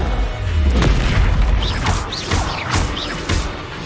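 Fire spell Incendio cast in Hogwarts Legacy amid busy combat, heard as a loud low boom followed by several crackling bursts and whooshing magical effects over about four seconds, with no talk.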